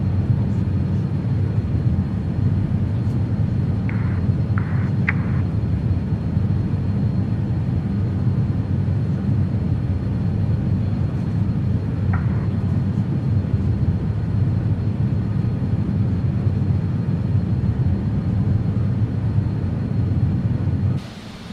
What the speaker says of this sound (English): the aircraft is accelerating